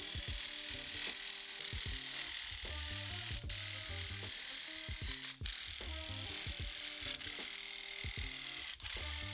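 A Graco TrueCoat 360 Connect paint sprayer driven by a power drill runs with a steady buzzing motor whine, close and continuous, with a few brief clicks and pauses in the hum.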